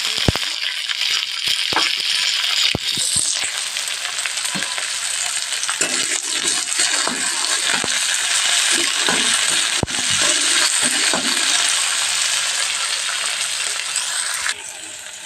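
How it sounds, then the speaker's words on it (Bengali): Chopped onions fry in a pan for pasta, a loud steady sizzle with scattered crackles and clicks of stirring throughout, fairly close, dropping off slightly at the very end. "আমার পেঁয়াজটাকে আর ভাজা ভাজা হয়ে গেছে"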